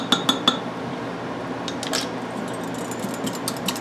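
A spoon clinks sharply against a pot three times in quick succession while stirring sugar-free keto pancake syrup, followed by softer scraping and occasional light taps at close range, with no talking.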